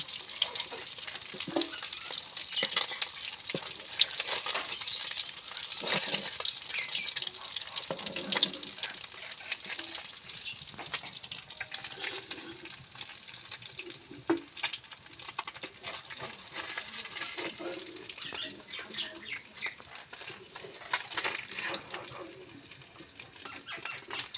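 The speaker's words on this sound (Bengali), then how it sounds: "মাছ আমার ভাজা হয়ে গেছে, এবারে আমি একটা একটা করে তুলে নেব।" Khoba fish from a river fries in oil with a constant bubbling sizzle, while occasional stirring and utensil scrapes sound close by.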